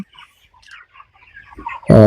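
Broiler chickens in a poultry farm unit, with faint scattered clucks and cheeps over near-quiet, then a sudden loud close call at the end.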